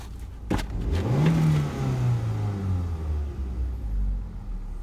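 A car engine that tends to stall at idle revs up with a rising whine that peaks and then sinks back toward a rough, low idle, loud and close, with no talk.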